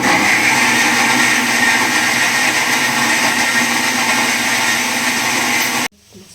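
A mixer grinder blending onion, garlic and ginger into biryani masala, a loud, steady high whine that runs for about six seconds and then stops abruptly.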